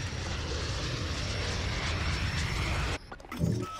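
An attack helicopter for the chopper gunner in a Call of Duty game drones loudly and steadily with engine and rotor roar, then cuts off abruptly near the end, leaving brief quieter game sounds.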